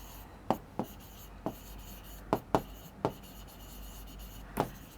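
Handwriting on paper: a few short, quiet scratchy strokes at irregular intervals over a soft steady background, with no talking.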